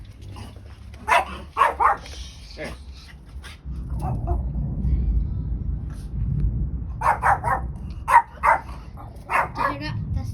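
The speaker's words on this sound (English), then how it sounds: "My dog's gonna be barking over the bangs of the." A dog barks in sharp clustered bursts during a thunderstorm, loud and close, with a low rumbling stretch between the bark groups. A voice speaks briefly.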